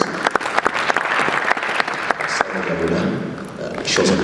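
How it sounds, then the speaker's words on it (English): A summit audience claps for a panelist in a sustained burst of many hands, fairly loud and even, with talking mixed in under the clapping. "Beautiful round of applause."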